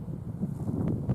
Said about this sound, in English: oh, yeah, definitely wind